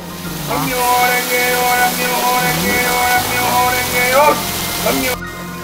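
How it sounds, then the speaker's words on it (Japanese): Waterfall at Ryusenji temple in Okayama, a steady rushing roar with tonal music and voices over it, cut off abruptly near the end. "ここは滝行体験ができるお寺龍泉寺"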